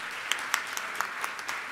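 An audience at a religious discourse clapping, brisk irregular applause from many hands held at a steady moderate level throughout.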